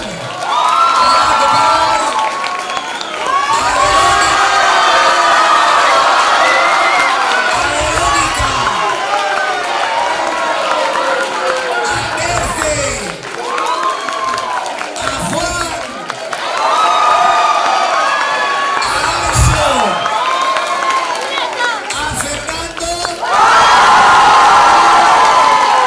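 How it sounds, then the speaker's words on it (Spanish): A school audience at a Spanish secondary school talent show cheers, whoops and applauds loudly and continuously for the participants and the jury, with excited shouting from the crowd that swells and falls throughout. "vamos a darle también un aplauso fuerte a los miembros del jurado"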